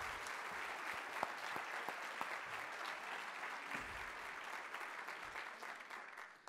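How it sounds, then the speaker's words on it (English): A conference audience at a morning keynote gives a sustained round of applause, dense steady clapping from a large crowd that carries on for several seconds before tapering. "If we could just give a huge round of applause to these individuals."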